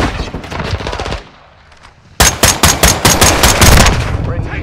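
Bursts of automatic gunfire in Call of Duty: Modern Warfare 2, loud and close, with a rattling volley, a short lull, then a renewed string of sharp shots; a voice speaks briefly amid the fire.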